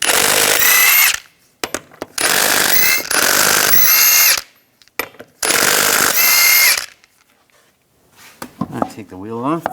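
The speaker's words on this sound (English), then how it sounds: "take the lug nuts off" A power tool fitted with a 22mm socket zips lug nuts off the wheel of a 2015–2020 Cadillac Escalade. Loud, close whirring comes in three long bursts separated by short pauses and clicks, and a voice follows at the end.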